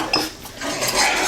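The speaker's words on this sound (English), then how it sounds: "you want to constantly stir. See how it's bubbling? Constantly stir it." A whisk scrapes and clinks steadily against a pan while stirring a bubbling flour roux for macaroni and cheese, close and fairly loud, with a soft sizzle beneath and no talking.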